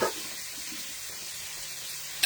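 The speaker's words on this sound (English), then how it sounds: "So we're just going to sear that." Food searing in a hot pan gives a steady, even sizzle throughout, with a brief louder burst of crackle at the very end and no talking.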